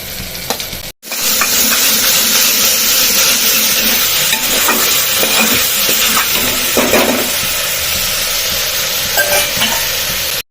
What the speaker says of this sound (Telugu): ఇప్పుడైతే దొండకాయ ముక్కలు వేసేద్దాం